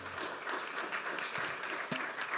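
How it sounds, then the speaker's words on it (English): Audience applause after a talk at a fisheries and aquaculture event, a steady dense wash of many hands clapping at moderate level with no gaps. "Round of applause."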